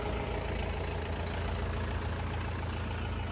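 A tractor engine idles steadily just after being started, a continuous low rumble holding even and fairly loud throughout, with no voices over it.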